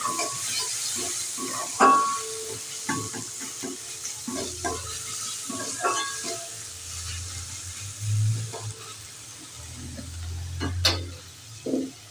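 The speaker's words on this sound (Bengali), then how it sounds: "পেঁয়াজটা ভাজা হয়ে গিয়েছে" Chopped onion fries with panch phoron in hot oil in a pan, a steady close sizzle broken by repeated spatula scrapes and clanks for tuna fish curry.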